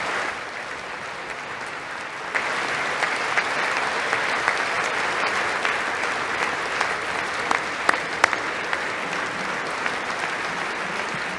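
Audience applause in a room, a sustained loud wash of clapping lasting over ten seconds and growing fuller after the first couple of seconds, with a few sharper claps standing out near the end.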